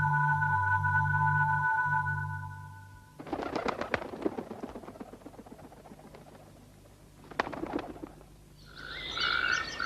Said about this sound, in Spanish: Los sonidos del monte y de las ranas en los pequeños charcos no se detienen.